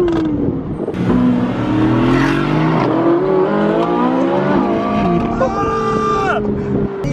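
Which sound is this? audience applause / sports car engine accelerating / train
sports car engine accelerating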